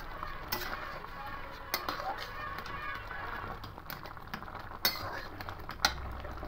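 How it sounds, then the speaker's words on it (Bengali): A spoon or spatula scrapes and clinks against a pan while raw mango chutney ingredients, with Kashmiri chilli powder, are stirred together, a steady soft mixing with occasional louder taps, fairly close and without talk. "এবার সব উপকরণগুলোকে একসঙ্গে ভাবে মিশিয়ে দেব।"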